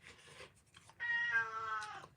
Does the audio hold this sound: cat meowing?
yes